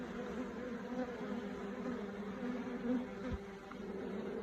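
Many honey bees at an apiary buzz in a steady, close hum that wavers gently in pitch, with a soft thud partway through.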